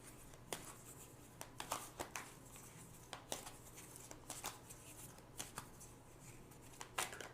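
Tarot cards being shuffled by hand, soft riffling and papery slaps repeating in quick irregular bursts, faint and close in a quiet room.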